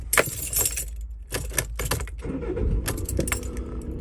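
Keys jangle loudly up close, then a 2012 Volkswagen Crafter diesel van cranks and settles into a low, steady idle, with no talking.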